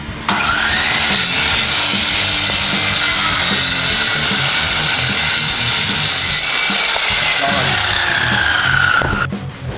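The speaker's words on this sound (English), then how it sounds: "so all I gotta do is cut this straight and I'm gonna have my base" A hand saw cuts straight through a wooden board for a bee house base, a continuous rasping stroke that runs for nearly ten seconds before stopping abruptly.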